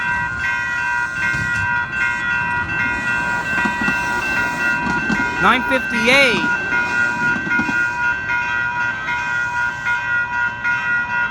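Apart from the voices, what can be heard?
VTA Blue Line one-car light rail train passing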